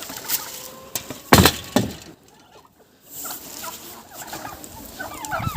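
Chickens clucking and a turkey gobbling, with a few sharp loud bursts near the start, then a brief quiet gap before more scattered calls.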